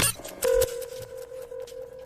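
A telephone call connecting on a radio call-in line, with a brief burst of dial tones followed by a sustained steady tone that pulses faintly for about two seconds.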